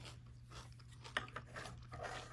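Warm M&Ms from a Nebraska Edition MeltyMill, shells still intact, are crunched in the mouth: a few sharp bites and chewing crunches over a low steady hum, with no talking.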